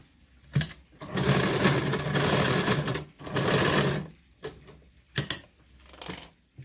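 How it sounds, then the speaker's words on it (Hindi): Sewing machine stitching a blouse neckline, running in steady whirring bursts of about one to two seconds, stopping at corners, with short taps and clicks between runs, close and clear with no talking. "कोनों पर हमको रुककर सिलाई करनी है।"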